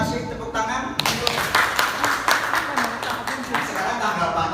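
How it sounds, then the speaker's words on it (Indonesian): Brief clapping from a small group at an anti-corruption outreach session, a few seconds of uneven hand claps mixed with talk and room noise. "Tepuk tangan untuk."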